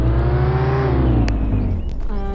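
A Bugatti Bolide hypercar in the Roblox game Jailbreak drives off with a loud, steady engine drone. Its pitch climbs slightly and then eases back over about two seconds, with no talking.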